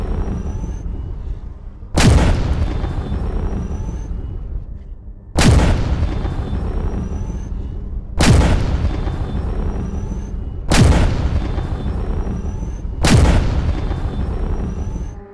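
Five heavy gunshots in the video game Stalker GAMMA are aimed at the character Sudjant. They come loud and alone, spaced roughly two to three seconds apart, and each blast trails off in a long rumbling echo.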